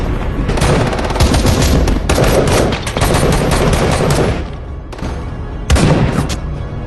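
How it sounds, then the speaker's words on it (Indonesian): A movie shootout inside a factory, with loud, dense bursts of rapid gunfire, machine-gun-like volleys, and sharp booming shots continuing almost without pause, with brief lulls between barrages. "terjadilah aksi tembak-tembakan"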